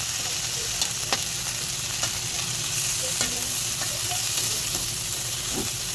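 Ground pork sizzles and fries in a pan under a steady, close hiss, with occasional scrapes and taps as it is stirred, and no talking.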